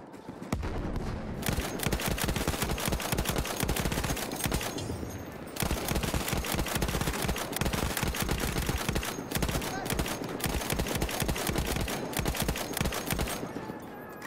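Lewis gun machine gun in Battlefield 1 firing long, rapid sustained bursts broken by short pauses, loud and close, with dense overlapping battlefield gunfire throughout.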